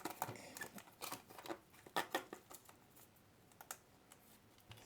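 Crinkly paper wrapper of a Sword and Shield trading card booster pack being torn open up close, heard as a quick run of sharp crackles and crinkles, fairly faint, with no talking.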